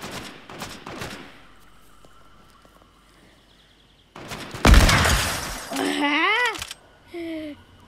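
Assault rifle fire in the Fortnite video game: a dense burst of gunfire-like noise around the middle, loud and close, with game effects and chirpy tonal sounds after it and quieter ambient game noise earlier.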